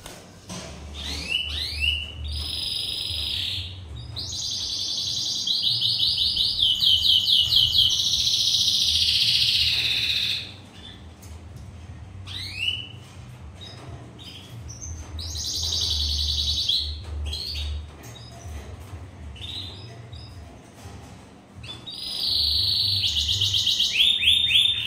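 A canary sings in bursts of bright, rapid trills and chirps, with loud sustained rolling phrases broken by short pauses, close and clear over a low background hum.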